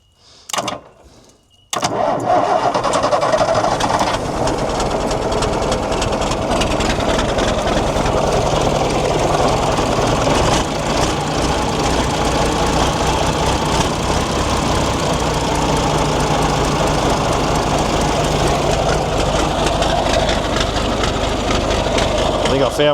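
Volvo G89 truck engine turns over briefly, then catches and settles into a loud, steady diesel idle with a continuous rumble and rattle, heard close up and alone for about twenty seconds.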